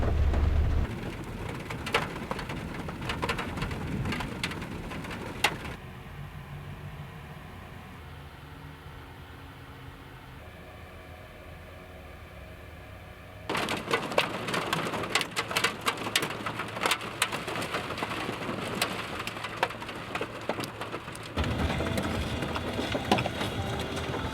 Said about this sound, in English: It was cloudy and it rained.